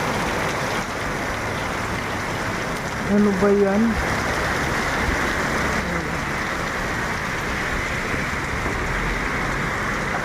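Heavy rain pours down steadily in a broad, constant hiss close by, with a brief spoken remark from someone standing in it partway through.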